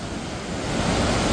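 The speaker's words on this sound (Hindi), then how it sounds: "आज स्रोत के ऊपर से भी पानी आ रहा है।" Water rushing over a hillside spring source, with a loud, dense, continuous roar close to the microphone that builds slightly and has no voices over it.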